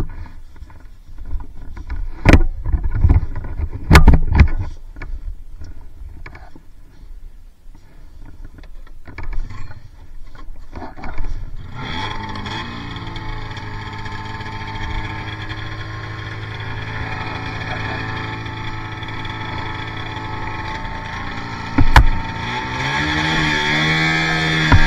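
A John Deere Liquidator ride-on machine runs through a ride, its engine note rising into a steady loud drone after a quieter, uneven start with a few sharp knocks.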